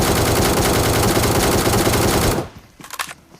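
Rapid automatic gunfire in a battle royale video game as an enemy is killed during a solo ranked push, a loud dense burst of shots that cuts off abruptly, followed by a few fainter clicks and noises.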